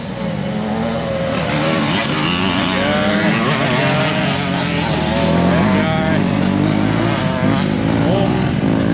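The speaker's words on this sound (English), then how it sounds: "Got us a four-wheeler. Another motorcycle." Engines of motorcycles and a four-wheeler roar past nearby, revving and shifting continuously, loud and steady with no pauses.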